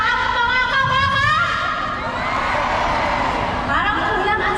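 A crowd at the 40th Kabaka anniversary celebration in Manila shouts and cheers in a loud, sustained roar, with whoops rising and falling and a voice calling over it.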